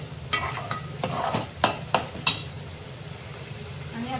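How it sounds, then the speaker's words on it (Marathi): Ground masala paste fries in oil in a home kitchen pan, a steady low sizzle with a few sharp scraping stirs of a spoon partway through, close and moderately loud. "तेल सुटायला लागलं की समजायचं आपलं वाटण व्यवस्थित फ्राय होत आहे"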